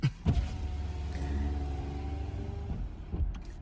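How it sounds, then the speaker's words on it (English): Electric parking brake motors on a car, run in brake change mode from an OBD2 scan tool: a steady whirring motor hum lasting about three seconds, bracketed by clunks as it starts and stops, with no one talking. "you will hear your electric motors, the parking brake motors"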